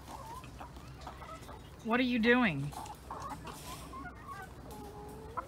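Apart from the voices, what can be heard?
chickens clucking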